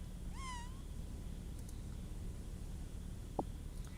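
Kitten meowing in the video game Old School RuneScape, a single short rising-then-falling meow early on over a steady game background hum, followed later by a brief soft click.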